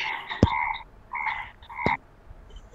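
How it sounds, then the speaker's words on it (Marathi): A frog croaks indoors through a quiet room, giving a few loud, clipped croaks with short pauses between them and no voices over it. "बेडकाचा आवाज यायला लागला रे कोणाच तरी"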